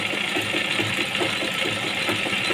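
A sewing machine stitches the picot edge of a saree, a close, steady whirring hum with rapid rhythmic needle ticking that runs without pause.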